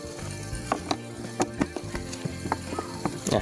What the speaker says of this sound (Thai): แล้วก็ให้จับน็อต เข้าที่เดิมให้เรียบร้อยนะครับผม